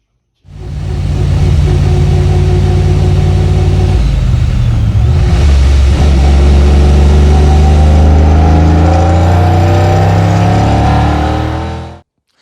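A supercharged 5.3 LS Chevrolet Silverado truck engine accelerates hard, loud and close, its rising whine and roar climbing steadily through the gears for about eleven seconds before cutting off abruptly.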